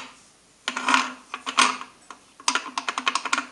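A large, loose Anglepoise lamp rattles as it is handled, giving a few clattering bursts, then a quick run of light metallic clicks and knocks, close and clear.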